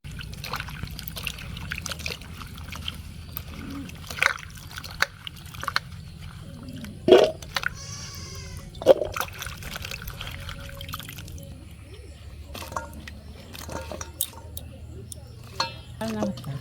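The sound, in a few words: washing cut leafy greens with water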